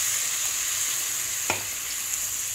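Parshe fish frying in oil as a watered mustard-poppy paste goes in, a steady bright sizzle with a soft splash partway through and a small clatter near the end.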